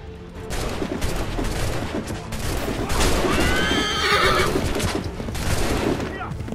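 In Assassin's Creed III, a horse gallops in a chase, its hooves and a loud whinny mixed with bursts of gunfire and battle noise, dense and close throughout.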